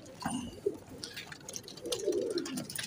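Dub breed pigeons give soft, low coos close by, several short rounded calls within a few seconds, against faint background noise.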